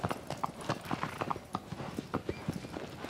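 A horse galloping in Shadow of the Colossus gives a steady, fast run of close, loud hoofbeats across the whole stretch, with faint speech mixed in.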